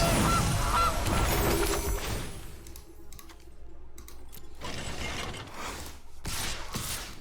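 A goose honk card effect plays in the MTG Arena digital card game, a loud honking burst followed by mechanical clicks, creaks and a final honk-like flourish amid game sound effects.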